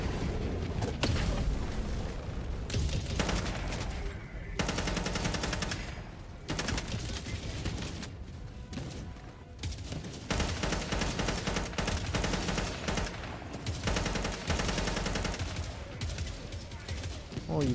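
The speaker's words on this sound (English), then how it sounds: "Requesting orbital strike." Helldivers 2 combat with an orbital strike called in amid gunfire: continuous dense machine-gun fire and booming explosions rolling on for many seconds, with voices talking over the din.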